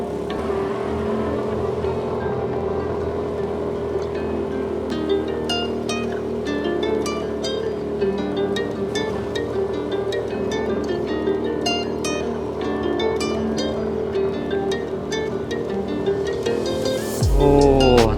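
A motorcycle rides along a mountain road on a touring trip in heavy rain, its engine droning steadily with shifting pitch as it climbs, joined near the end by a louder roaring surge.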